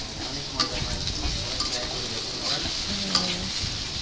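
Ridge gourd and egg are stir-fried in a pan, making a steady close sizzle with scraping stirring strokes, while a voice murmurs faintly in the background.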